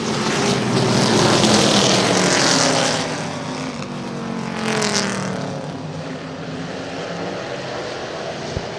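Race cars roaring around the track during a ten-lap B feature, a loud, dense engine drone that swells near the start and then eases into a sustained, slightly fluctuating roar.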